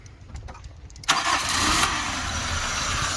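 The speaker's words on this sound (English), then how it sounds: "start up the car" A car engine cranks and fires into a loud idle after quiet rustling, then settles into a steady running drone, heard close with no talking.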